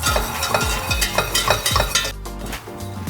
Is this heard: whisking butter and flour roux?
yes